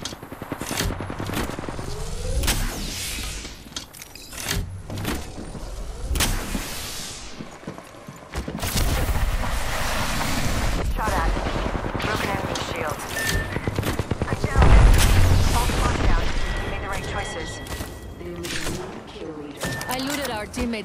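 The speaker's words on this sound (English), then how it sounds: "Getting shot at." Gunfire in the shooter Apex Legends: scattered sharp shots and rapid bursts spread through a busy firefight, mixed with clattering movement, impacts and game voice lines.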